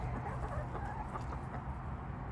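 Backyard hens cluck and murmur steadily at close range, a continuous low layer of soft fowl calls with no talk over it.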